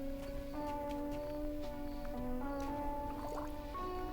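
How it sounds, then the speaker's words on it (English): Cold water trickling and dripping from a leaking ice cooler in the game Trüberbrook, a steady soft liquid patter alone under faint looping music tones. "Cold water is leaking out."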